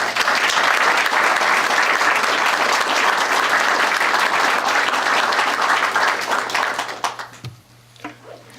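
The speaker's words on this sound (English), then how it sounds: "Got a round of applause while you're up for our 2016 Hall of Fame class, Marci Clemons Spivey and Ron Balicki." At a Hall of Fame luncheon, a large audience applauds the inductees loudly and continuously before the clapping fades out, leaving a few scattered claps and a quiet room.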